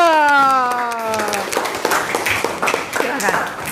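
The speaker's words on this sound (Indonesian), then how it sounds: "Beri tepuk tangan dulu dong." Classroom students applauding in a high school guidance and counseling lesson, a burst of clapping that follows a held musical chime and continues as a ragged, moderately loud patter.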